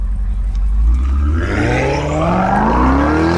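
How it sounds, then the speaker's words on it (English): A BMW X5 M50i with a Valvetronic exhaust revs up sharply, the exhaust note climbing in pitch, loud and close with a throaty rumble. "you love this Valvetronic exhaust."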